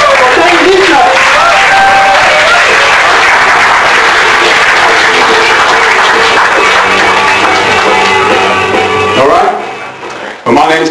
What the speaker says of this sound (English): start clapping and cheering and go crazy